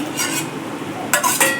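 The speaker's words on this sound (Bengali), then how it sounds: "তো এবার আমি এক এক করে পনিরগুলোকে ছেড়ে দেবো ঝোলের মধ্যে।" Pieces of paneer dropped one by one into a simmering curry, two soft splashy clatters near the end over a low bubbling background.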